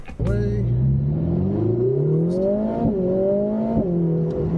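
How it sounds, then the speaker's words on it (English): A Lotus Emira sports car engine revs up from low revs, its pitch climbing steadily, easing briefly and rising again, loud and close throughout. "We're starting from low revs, so there's a little bit of lag"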